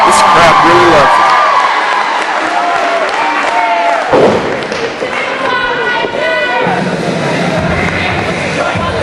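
A wrestling crowd at an NCWA event cheers and roars loudly and continuously as a popular champion makes his ring entrance, with clapping and a few sharp thuds mixed into the dense arena noise.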